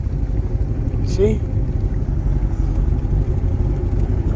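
Steady, close, low rumble of a 1974 Lund jet boat engine idling on the water, barely moving, with a brief spoken word partway through.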